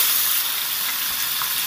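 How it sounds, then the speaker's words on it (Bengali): Potatoes frying in hot oil in a pan, a dense, even hiss of sizzling that stays loud and close for a brief moment, with no voices. "আলুগুলোকে একইভাবে লাল লাল করে সুন্দর করে ভাজতে হবে।"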